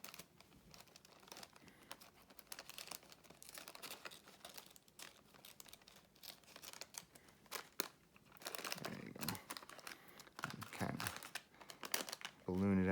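Paper crinkling and crackling as an origami balloon lantern is folded and pockets are tucked back in, a busy stream of close rustles running under talk throughout, with louder crunchy bursts toward the end.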